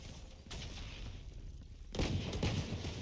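A grenade blast and gunfire in the tactical shooter Valorant, a steady rumble of game combat that swells into a louder burst of shots and explosion partway through, with faint voices in the mix.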